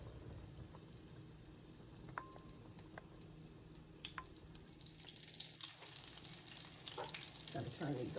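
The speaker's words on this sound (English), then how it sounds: "we are just going to cook them on each side until they're brown" Beef patties for Salisbury steak browning in a pan, a steady low sizzle and crackle running throughout with scattered pops and utensil clinks, rising slightly near the end.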